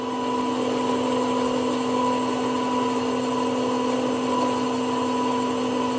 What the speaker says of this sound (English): It drills so much easier with a pilot hole.